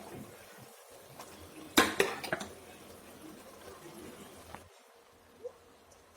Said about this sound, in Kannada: ನೋಡಿ, ರೈಸ್ನ ಹಾಕ್ತಾಯಿದ್ದೀನಿ.